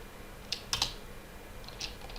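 A few light keystrokes tap on a computer keyboard while Java commands are typed, faint and close in a quiet room, in a short irregular cluster followed by a lone tap.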